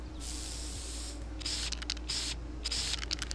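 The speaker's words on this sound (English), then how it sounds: "just spray them. I'm spraying bugs that are outside where they're supposed to be" A Sim sprays bug spray at insects in The Sims 1, producing a series of short hissing spray bursts over a low game-music hum, the first long, the later ones quicker and choppier.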